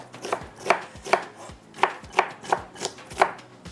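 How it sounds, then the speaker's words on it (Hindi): A knife chops onion on a cutting board in about nine crisp, evenly spaced strokes, close and clear with no talking. "प्याज को कटिंग करेंगे"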